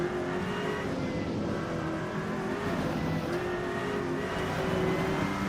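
Aston Martin race car engine in the Rennsport racing game, a steady, flat-sounding drone held at constant loudness with no breaks, close and continuous throughout.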